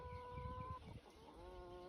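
Soft clucking from laying hens, a couple of drawn-out calls with quieter background noise, fairly faint and somewhat distant.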